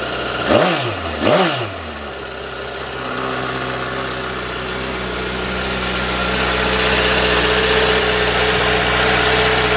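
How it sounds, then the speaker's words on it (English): A cold Honda CBR1000RR Fireblade motorcycle engine in standard form starts with two quick rising revs, then settles into a steady, close idle that hums evenly and swells slightly louder toward the end. "And that's what a standard Honda Fireblade sounds like."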